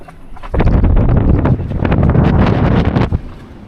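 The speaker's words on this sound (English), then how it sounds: "It's blowing a gale." A strong gale blows along an island beach shore, roaring as loud buffeting gusts hit the microphone for a few seconds before dropping back.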